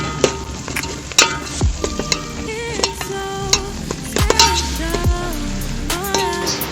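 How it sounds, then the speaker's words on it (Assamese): Pork is stirred and fried in hot oil with turmeric and coriander powder, a steady sizzle broken by sharp, irregular scrapes and clacks of the stirring utensil against the pan, close up with no voices. "এতিয়া মাংসটো ঢালি দিওঁ ধুনীয়া কৰি এতিয়া ধুনীয়াকৈ লাৰি দিওঁ ভালকৈ লাৰি দিব লাগে"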